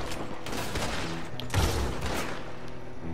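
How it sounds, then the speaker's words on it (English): A shotgun fires in the video game Red Dead Redemption 2, giving dense, loud bursts of gunfire amid a noisy battle soundscape, with one heavier blast midway. "you gotta love this shotgun, guys"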